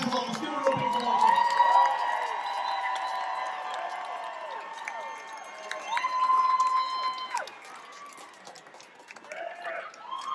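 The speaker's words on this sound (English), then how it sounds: "How about a huge round of applause?" An outdoor rock concert crowd at a show in Fayetteville, Georgia cheers, whistles and shouts loudly, with sustained, dense excited noise that swells and fades over several seconds.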